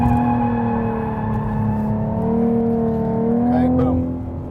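Ford Mustang V6 engine holding a steady, loud drone that swells slightly and eases off near the end, with no voices over it.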